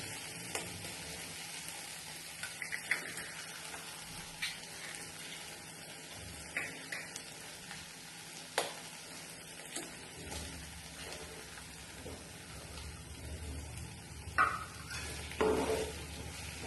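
Eggs frying with okra in a curry pan, a soft continuous sizzle with occasional scrapes and stirring knocks, close and moderately quiet.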